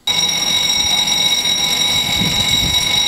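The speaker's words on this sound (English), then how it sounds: "slammed into the front of a travel agency business at 394 Broadway, setting off the burglar alarm and attracting passers-by" A burglar alarm rings at a travel agency on Broadway after a car crashed into the storefront, a loud continuous electronic tone held steady throughout with faint background movement beneath it.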